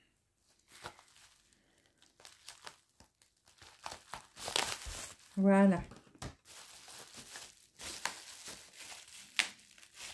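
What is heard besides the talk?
unwrapping taped plastic packaging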